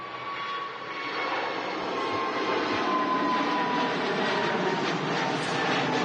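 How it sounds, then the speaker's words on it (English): An EasyJet Airbus A320neo rolls for takeoff at Manchester Airport, giving a steady, distant engine roar with a faint whine that slowly builds over six seconds and has no talking over it. "Looks like a EasyJet Neo rolling."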